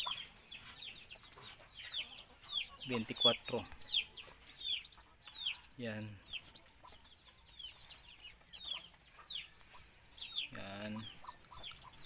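Chickens and ducks on a farm cluck and quack in scattered, close bursts, with a few louder calls standing out against a quiet background, while a person speaks briefly.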